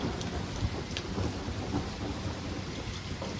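Steady rain falling through a thunderstorm, with a low continuous rumble of thunder under the patter, moderately loud and unbroken, no voices.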